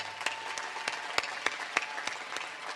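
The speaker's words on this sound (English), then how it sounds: "Give yourselves a round of applause" A small audience gives quiet, sparse applause at a school entrepreneurship awards ceremony, with scattered individual claps at a distance, fairly faint and steady throughout.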